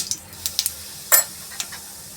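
Mustard seeds and coriander-cumin powder go into hot oil, giving short crackling pops and a brief louder sizzle burst amid light kitchen noise, fairly close.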